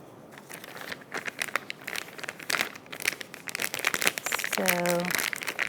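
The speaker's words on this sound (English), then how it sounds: "I'm taking a piping bag" A plastic piping bag crinkles and rustles in handling as a coupler is fitted, close and uneven crackling, with a voice speaking briefly near the end.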